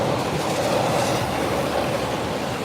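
A Yamanote Line train in Tokyo rolls over elevated tracks above a street, a loud steady rumble and rattle of wheels throughout with no voices.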